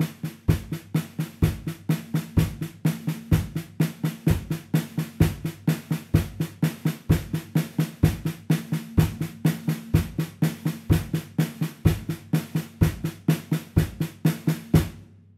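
Drum kit playing a steady double stroke roll with bass drum hits on quarter notes, an even, evenly spaced stream of close, loud strokes with regular accented thumps underneath, no talking.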